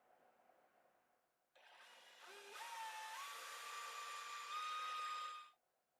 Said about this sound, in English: drill out a hole for the wings